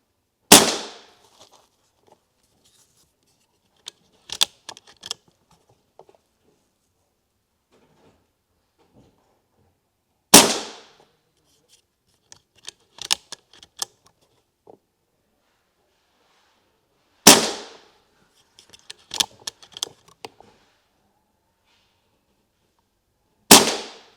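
REXIMEX Morpho modular air pistol firing pellets: four sharp, loud cracks spaced several seconds apart, each followed by softer clicks and rattles of the magazine and needle being reset between shots, close and without talk.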